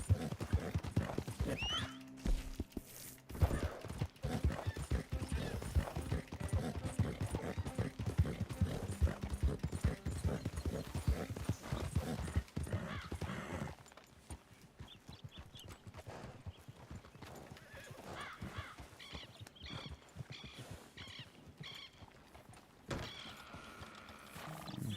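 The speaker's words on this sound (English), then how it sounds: "how's that horse doing?" Horse hooves clip-clopping in a quick, steady rhythm close by, with whinnying and animal noise mixed in, busy and loud at first, then quieter and more scattered.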